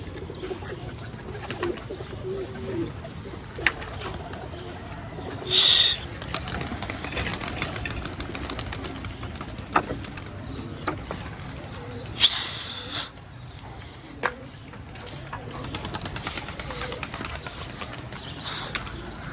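Pigeons released from a loft flap and coo outdoors, with soft cooing throughout and a few bursts of wingbeats taking off at intervals, moderately close.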